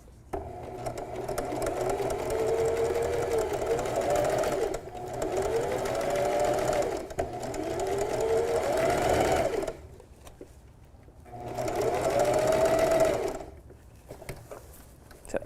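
A sewing machine stitches a spiderweb collar in steady whirring runs, stopping briefly several times as the needle is left down and the fabric pivots at each point, close and fairly loud with no talk.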